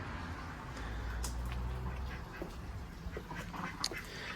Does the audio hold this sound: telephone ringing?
no